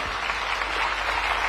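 A crowd at a formal International Biodiversity Day event at the Indian Institute of Forest Management applauds loudly and continuously, dense full clapping filling the room without pause.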